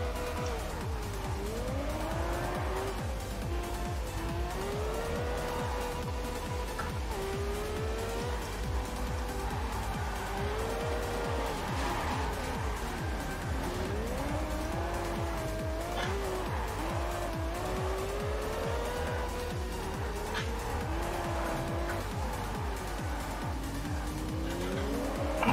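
A car drifting in the Test Drive Unlimited video game, with a continuous engine drone and tire squeal that rises and falls in pitch throughout, loud and steady with no pauses.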